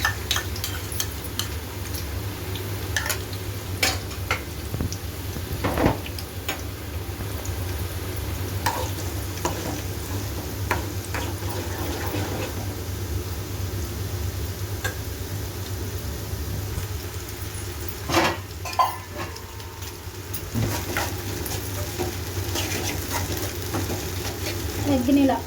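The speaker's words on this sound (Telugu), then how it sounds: "ఆయిల్లోనే గుడ్ని వేసేస్తున్నాను." Eggs fry in hot oil left from frying chicken for chicken fried rice, giving a steady soft sizzle with occasional scrapes and stirs of a utensil in the pan throughout.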